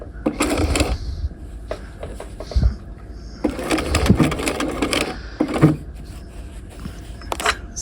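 Sewing machine stitching in the ditch along a half-scale jacket's shoulder and collar seam, running in several short bursts with pauses and small clicks between them, close and clear.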